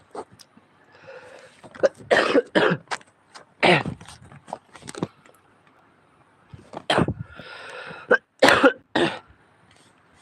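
Several loud, harsh coughs from a person with a cold, in bursts, some close together, with quiet pauses between them and a throat being cleared.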